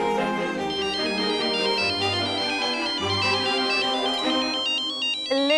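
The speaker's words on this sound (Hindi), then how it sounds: "ले डॉली, दीदी जिन्हें इतनी शिद्दत से याद कर रही थी, उन्हीं का फोन आ गया।" Mobile phone ringtone for an incoming call plays as a bright electronic melody of repeating tones, fairly close and steady, with no one talking over it.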